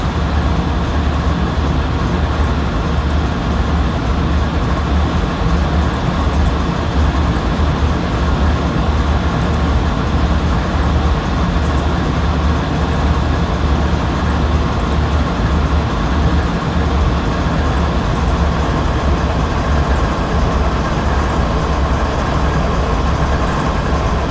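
Locomotive engines rumble steadily in the Train Sim 2015 game, a continuous low diesel drone and rail noise at constant loudness with no breaks throughout.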